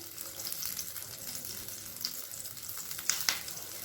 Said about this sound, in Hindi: हरी मिर्ची फ्राई होने लगी है तो अब हम इसमें मीठा नीम डाल देंगे, जिसे कि हम कड़ी पत्ता भी कहते हैं